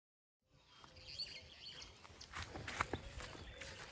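Small birds chirp with faint, scattered high tweets over a low rustling and shuffling background, and soft footstep-like patter runs throughout.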